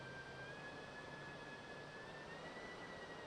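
A simulated A380 RC model airliner's engines in the RealFlight 7.5 flight simulator game, a steady continuous jet whine with a high tonal line over broadband rush, no talk.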